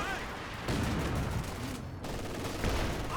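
Scattered booms and crackling blasts from an M8 Scott artillery barrage in a Company of Heroes 2 battle, a dense continuous wash of distant-sounding impacts with a few sharper hits under faint commentary.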